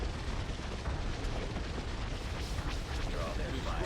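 Starship cannons blast in a space battle in Empire at War: Thrawn's Revenge, with dreadnought cruisers firing broadsides. The result is a dense, continuous roar of booming explosions and weapon fire throughout.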